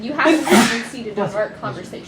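One sharp, close sneeze bursts out early, surrounded by a person talking at normal volume.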